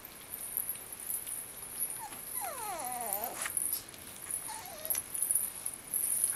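A French Bulldog puppy whimpers in a few high, wavering whines, clustered in the middle and briefly again near the end, over a steady background hiss.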